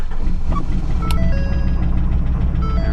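A Ford F-350 truck with a compound-turbo 6.7 Powerstroke diesel turns over and runs with a loud, low rumbling clatter, accompanied by a few electronic chimes and beeps.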